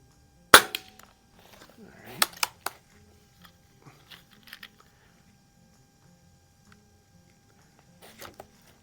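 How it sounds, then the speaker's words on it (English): A suppressed Crosman 3622 air rifle fires a muffled pellet shot, followed by a few softer clicks and clatters of handling and cycling the action, close and sparse against quiet. "This thing does have a pretty good amount of bark, so that suppressor really helps out a lot."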